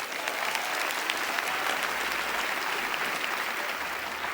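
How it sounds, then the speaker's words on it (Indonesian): A comedy show audience in Indonesia breaks into sustained applause, a dense close wash of clapping from a large crowd that holds steady throughout without a break. "tepuk tangan buat kalian semua"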